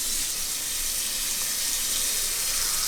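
Water runs steadily from a tap over a tray of fenugreek sprouts set above the kitchen sink, a continuous close hiss and splash with no talk.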